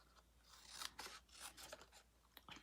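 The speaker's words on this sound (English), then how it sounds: "trim off the excess here" Paper being trimmed for a handmade spring card, with quiet scissor snips and rasping cuts in a few bursts, close and soft, no talking.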